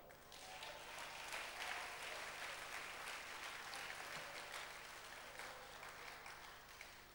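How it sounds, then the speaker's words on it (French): A church congregation claps during a Sunday service. The applause is steady and fairly distant, fills the whole stretch and is faint in level, with no speech over it. "Si vous le croyez, acclamez la parole."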